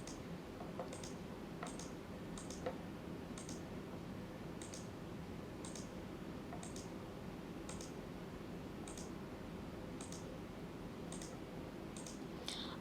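A computer mouse clicks while a shape is drawn point by point in Illustrator. The single sharp clicks come every second or so over a faint steady background hiss, with no talk.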